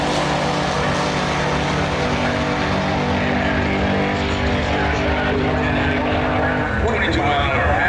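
A pickup truck converted from a milk truck, bought for $300 and run without a roll bar, drag races down the strip, its engine a loud, continuous roar that holds steady across the whole pass.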